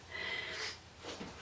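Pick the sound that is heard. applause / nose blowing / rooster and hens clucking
nose blowing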